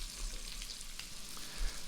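Potatoes frying in oil in a pan, giving a steady, soft crackling sizzle throughout with no voices.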